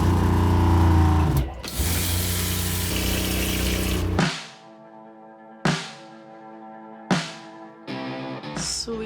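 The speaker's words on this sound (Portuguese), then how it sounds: "Vou ligar a torneira aqui." Aboard a Bavaria 40 sailboat, a sink tap gushes loudly for a few seconds and then shuts off. Short whining bursts follow, probably from the pressurized water pump cycling on and off in the quiet cabin.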